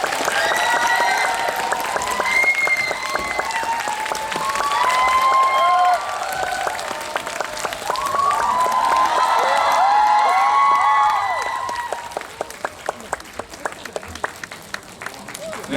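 Audience at a film screening talk event applauds and cheers as the director and cast of the courtroom film come on stage, with sustained clapping, excited high-pitched shrieks and whoops, then the crowd noise settles into scattered clapping.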